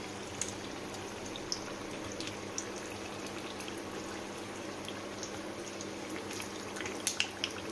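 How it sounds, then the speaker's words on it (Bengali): Eggplant fritters (beguni) fry in a pan of hot oil, giving a quiet, steady sizzle dotted with small scattered pops and crackles, heard alone with no talking. "এই চলছে ফুলো ফুলো বেগুনি ভাজা।"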